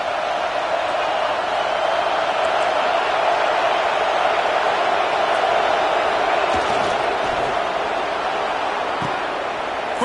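Crowd in a college football stadium during Georgia vs USC: a steady, loud wash of roaring fans that holds unbroken throughout, with faint thuds beneath.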